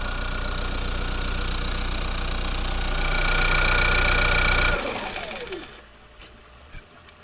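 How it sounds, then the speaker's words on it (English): A five-year-old Dacia Duster engine idles with a steady, close, even hum, then shuts off near the end, leaving a faint fading whine and small ticks. "the engine seems to be making a nice sound"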